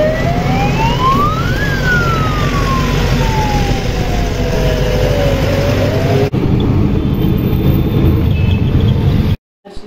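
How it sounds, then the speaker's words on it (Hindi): A fire brigade truck's siren wails loudly and close by at a crowded fair in Ghaziabad, its tone sweeping up and down in long cycles over engine and crowd noise before cutting off abruptly. "पीछे आ रही है फायर ब्रिगेड की गाड़ी"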